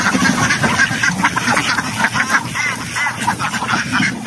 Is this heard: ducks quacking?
yes